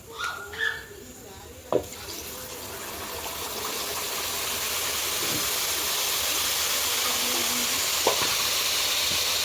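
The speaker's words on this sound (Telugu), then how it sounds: "ఈ తాలింపులోనే ఈ చింతపండు పులుసు పోసుకుందాం" Tamarind juice poured into a hot tempering for an amla pickle cooked over a firewood stove, giving a few knocks and then a steady, building close sizzle that carries on to the end.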